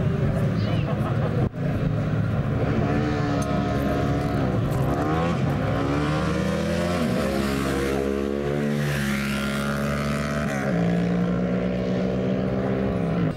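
Race cars roar past at high speed, with loud engine notes that rise and fall in pitch through a long pass. Someone talks over the engines the whole time on rough, lo-fi footage.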